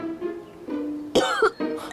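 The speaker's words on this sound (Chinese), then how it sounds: "蓉儿也是今日染了风寒，一直在咳嗽" A woman sick with a cold coughs and clears her throat in a close, uneven sequence. A stronger burst comes near the middle, with softer voiced hacks around it.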